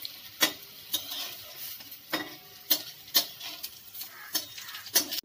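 Poppy seed fritters (posto bora) in hot oil, with a soft steady sizzle broken by a regular series of sharp clicks and taps as a utensil strikes the pan, close and fairly quiet.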